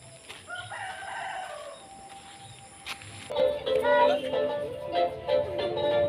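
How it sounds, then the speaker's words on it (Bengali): A rooster-like crow rings out with bright harmonic calls, accompanied by scattered bird chirps in an open outdoor space, with no talking. "আমার কথার ফাঁকে বনমুরগি এবং পাখিদের ডাকগুলো শুনবেন।"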